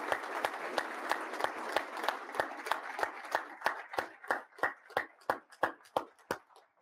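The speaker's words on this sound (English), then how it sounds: "How about join me in a round of applause for the Chief of Staff for that great rundown." Audience applause at an Association of the U.S. Army coffee series event honoring the Army Chief of Staff, steady dense clapping that thins into slower, more distinct individual claps toward the end.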